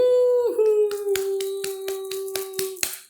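An audience claps in welcome for a podcast guest, with several sharp, spaced claps over a sustained tonal hum that fades partway through.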